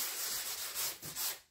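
A sanding block is rubbed over dry plaster in quick strokes, making a close, raspy scraping hiss that swells and fades. No voices are heard.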